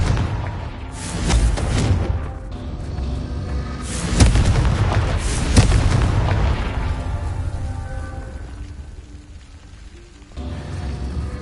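The Confringo spell in a video game sets off deep booming blasts, several rumbling explosions rising and fading over a sustained, loud low roar.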